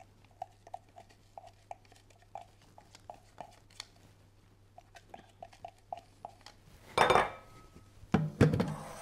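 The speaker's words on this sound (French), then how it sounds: "je viens donc mélanger tous ces éléments entre eux jusqu'à ce que j'obtienne une espèce de pommade" Soft room-temperature butter worked together with shallots, garlic and chopped parsley, a run of light rhythmic taps and scrapes of a utensil against a bowl, then a few louder clattering knocks near the end.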